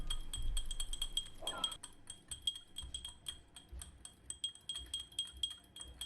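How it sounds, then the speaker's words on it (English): Spoon or spatula clinking against a glass container while stirring melted beeswax into coconut oil, a steady run of light, close ticks and taps with no talking. "Stir until all the beeswax is melted by the remaining heat"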